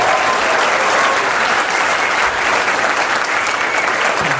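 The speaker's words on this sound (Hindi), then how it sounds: "एक बार जोरदार तालियां शिवम को दीजिए" A seminar audience at a business talk gives steady, dense applause, loud and close throughout, with no speech rising above the clapping.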